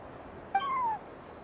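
A cat in the video game Genshin Impact gives one short, clear meow with a gliding pitch, close and alone over a quiet background.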